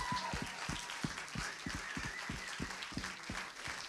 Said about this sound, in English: I think we should just give the guys, everybody involved, a massive round of applause